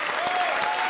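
A studio audience at a comedy show breaks into a brief, dense burst of clapping.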